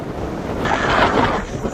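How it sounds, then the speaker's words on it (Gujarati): Heavy wind buffets a phone microphone in open village farmland, a steady low roar that swells slightly in the middle, loud and close throughout. "પવન એવો છે ને કે મારે ફોને પકડવો પડે."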